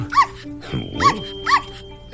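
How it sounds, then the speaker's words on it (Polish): Small dogs barking close by in three quick, evenly spaced barks, loud and clear with little else around them. "Pozwól najpierw, że przedstawię ci moje małe pieski."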